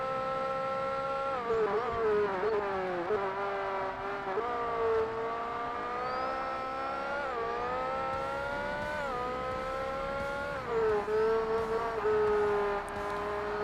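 Race car engines in Forza Motorsport, a loud, steady high-pitched engine whine that rises and drops sharply with each gear shift, continuous over the whole stretch.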